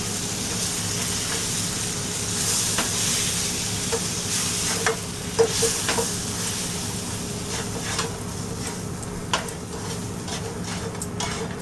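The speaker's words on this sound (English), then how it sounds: "Now we're going to roast this masala" Masala roasting in a pan for a bone broth soup, a steady close sizzle and fry with scraping, clinking stirs and occasional sharp ticks, no talking.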